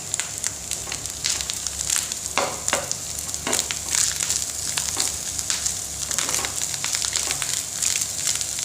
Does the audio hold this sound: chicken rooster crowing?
no